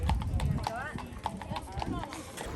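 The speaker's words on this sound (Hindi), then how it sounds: "पीछे जो हॉर्स राइड दिख रही है आप वो भी ले सकते हो" Horse hooves clip-clopping on a street during a horse ride on car-free Mackinac Island, Michigan: a steady, moderately close rhythmic clatter of hoofbeats with people talking over it.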